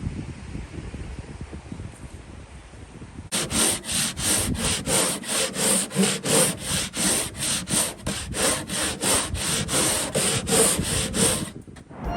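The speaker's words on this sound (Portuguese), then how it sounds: "Fausto precisa da luva para não machucar as mãos na hora de lixar" Wood rubbed with sandpaper by hand, a steady back-and-forth scratching in even strokes that starts after a quiet stretch and runs on loud and close, with no one talking.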